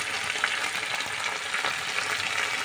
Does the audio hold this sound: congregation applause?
no